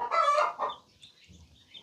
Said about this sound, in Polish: Kury się rozgdakały, jakby dzisiaj co najmniej dwa kosze jaj miały być